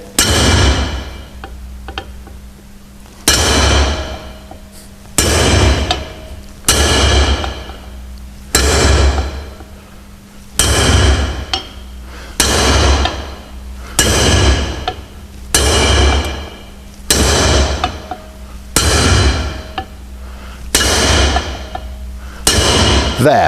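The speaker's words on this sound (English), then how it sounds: "Now you can hear that's still quite a sharp, high-pitched note each time I hit." Sharp, high-pitched metallic hammer strikes drive wheel studs down into a new brake drum on its original hub, a steady series of about a dozen loud ringing blows roughly two seconds apart, close and unaccompanied by speech.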